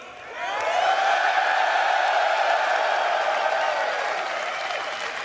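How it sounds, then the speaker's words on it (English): Live audience at the CitizenCon 2024 convention cheering and applauding, a dense wash of claps and shouts that swells quickly and holds steady and loud for several seconds. "So if we get a big cheer, we'll reveal the system."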